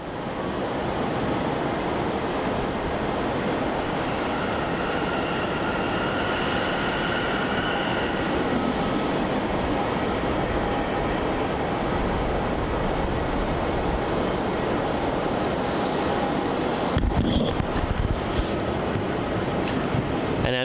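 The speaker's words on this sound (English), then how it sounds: "What an awesome arrival there for that Malaysia A330." A Malaysia Airlines Airbus A330 arrives at Melbourne Airport with a sustained, broad jet roar that holds steady for the whole stretch, with a brief rougher surge near the end.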